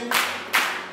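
Church congregation clapping hands in praise: two broad, reverberant bursts of clapping about half a second apart, each fading into a long echoing tail, at moderate loudness with no talk.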